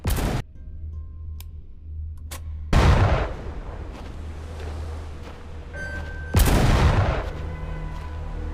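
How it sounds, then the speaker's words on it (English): Big gun firing in Sniper Elite VR, three loud booming shots spaced a few seconds apart, each with a long rumbling decay. "The gun began to fire."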